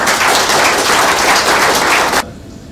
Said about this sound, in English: So give a round of applause to the whole team.